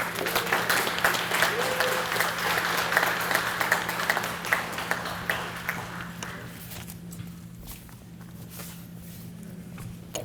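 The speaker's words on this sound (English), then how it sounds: "Give them a round of applause" A crowd applauding steadily at a school dedication ceremony, dense clapping that thins out and fades toward the end, with a faint hum underneath.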